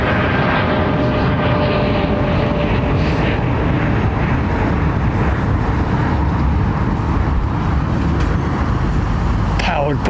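A Singapore Airlines Airbus A380-800 with Rolls-Royce engines roars loudly and steadily at London Heathrow Airport, a dense broadband engine rumble and whine under faint traffic noise.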